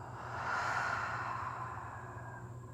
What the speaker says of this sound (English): Exhale, let it go out the mouth.